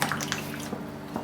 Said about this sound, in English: we're gonna add half of the water